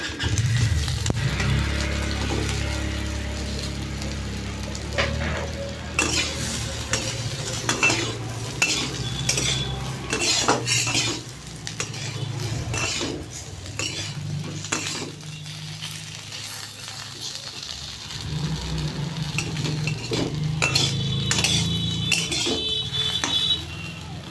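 Cauliflower 65 being tossed and stirred in a pan, with steady frying sizzle, scraping and clinks of a utensil against metal; no talking.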